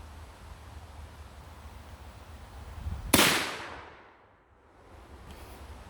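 One sharp, loud gunshot from a .454 Casull revolver firing a heavy 300-grain bullet cracks out midway through a quiet outdoor stretch, then its echo fades away over the next second or so.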